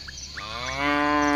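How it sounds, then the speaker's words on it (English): A cow moos once, a short, steady low bellow heard close up, with no voices over it. "cow"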